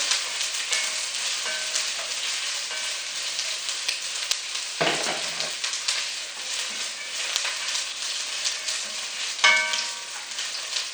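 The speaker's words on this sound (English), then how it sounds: "you will put the onion inside, carrot, and you just saute." Onion and carrot sautéing in butter in a soup pot for borscht, a loud, continuous close sizzle with occasional stirring scrapes and clinks throughout.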